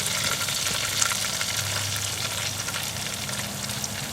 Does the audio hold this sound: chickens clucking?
no